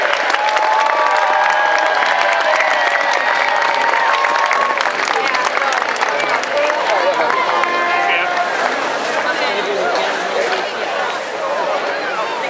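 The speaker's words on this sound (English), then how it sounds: "One more big round of applause for all the tuba players that came on out and played for us this afternoon." Outdoor crowd at a Tuba Christmas concert in Pioneer Square, Portland, applauding and cheering loudly for nearly 300 tuba players, dense clapping and shouts with a few bright horn notes mixed in throughout.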